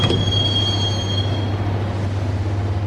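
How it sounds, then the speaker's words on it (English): A subway train rumbles along in Max Payne, with a steady low rolling drone and a thin high whine of wheels that fades after the first second and a half. "the train doors had already shut behind me, and I was in for the ride"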